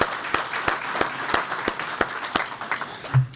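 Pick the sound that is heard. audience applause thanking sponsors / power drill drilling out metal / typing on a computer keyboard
audience applause thanking sponsors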